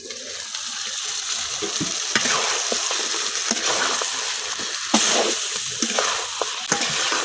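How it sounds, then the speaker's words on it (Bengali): Native duck meat and potatoes stir-fried together in a village kitchen, a steady close sizzle with repeated scraping stirs and clinks of a utensil against the pan. "মাংসের সাথে আলুটাও কিছুক্ষণ কষায় নেন"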